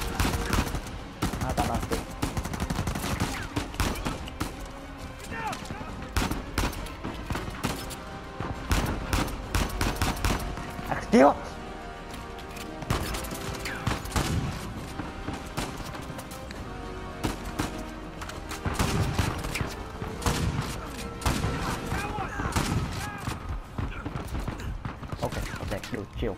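Sniper and rifle gunfire in the video game Uncharted 4, with repeated sharp shots and bursts cracking throughout a busy firefight, while a player talks over the action.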